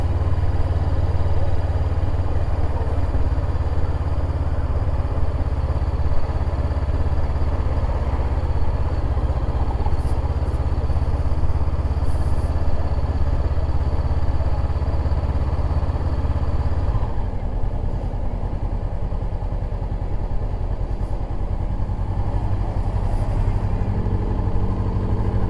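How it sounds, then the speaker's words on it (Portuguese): Steady engine rumble from motorcycles passing on a street in Holambra, São Paulo, a continuous low drone that shifts in tone partway through as traffic moves past. "Final de semana dá muita moto aqui."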